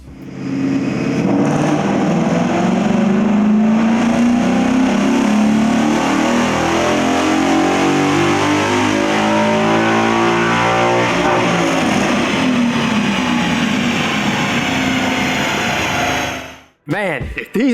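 A 2015-17 Ford Mustang GT V8 with the Ford Performance Stage 2 Power Pack runs up on dyno rollers, its loud engine roaring as it climbs steadily through the revs for many seconds before cutting off abruptly at the end.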